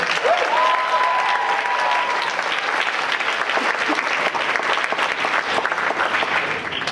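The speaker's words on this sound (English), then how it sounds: "Let's give these ladies another round of applause." Applause from an audience at a West African dance show swells into loud, dense clapping that carries steadily for several seconds, with a brief whistle near the start and faint crowd noise underneath.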